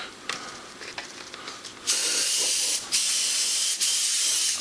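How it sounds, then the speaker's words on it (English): A spray can or airbrush coats a plastic miniature model, starting with short hissing bursts and then settling into longer sustained sprays cut by brief pauses, close and loud. "Now I'm going to spray."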